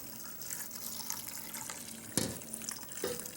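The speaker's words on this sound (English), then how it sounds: "I'm gonna cover this with water." Water poured into a pot of eggplant jambalaya with garlic, a steady running splash under a faint kitchen hum, with a sharper knock or clatter near the end.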